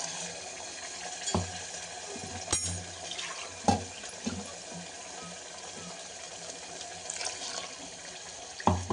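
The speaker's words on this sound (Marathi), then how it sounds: "आता आपण थोडंसं पाणी टाकू, आपल्याला जसं पाहिजे तसं पाणी टाकायचं" Water pours into a curry of aubergine and potato with homemade masala, a close, running splash and hiss over the simmering pan, with a few utensil knocks.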